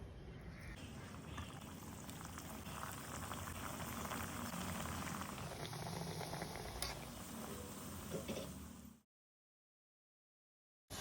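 Small badusha dough rounds frying in hot oil, a steady, close bubbling sizzle that runs evenly for about nine seconds, then cuts to silence.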